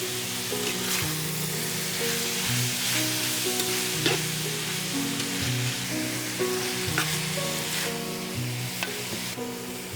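Beef with herb paste stir-frying in a hot pan, a continuous bright sizzle with scraping stirs and small clatters recurring every second or two, close and steady over light background music, with no talking.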